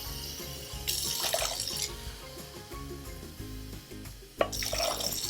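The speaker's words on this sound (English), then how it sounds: "two cups of water" Water poured for cooking quinoa, two cups' worth, splashing in bursts into a pot over a steady background hum with faint musical tones; no talk.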